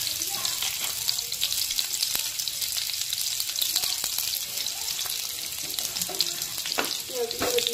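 Chopped onions dropped into hot oil sizzle loudly and continuously at close range, a dense frying hiss with small crackles throughout and no talking.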